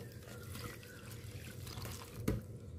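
Water being poured into a pan while making Oreo milk pudding, a soft, steady trickle and splash heard quietly, with a single small knock near the end.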